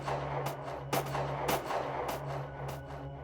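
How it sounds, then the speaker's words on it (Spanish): Several sharp gunshots ring out at a distance across a windswept open area, spaced irregularly over a steady low hum, faint and echoing with no voices. "Entonces, escuchamos unos disparos."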